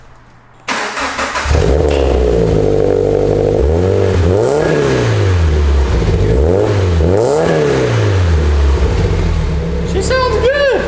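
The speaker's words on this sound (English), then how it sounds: "So let's see how this MagnaFlow sounds. First start, Ricky." A supercharged 2014 Subaru BRZ fitted with a MagnaFlow exhaust with chrome tips cranks and fires up loudly, settles into a rumbling idle, then revs several times in rising and falling sweeps, with voices talking nearby.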